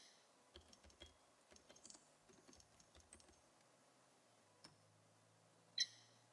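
Quiet keystrokes on a computer keyboard while writing a log entry in the game Pirates of the Caribbean New Horizons, a few irregular bursts of clicks with pauses between, ending on a louder single tap, with no talking.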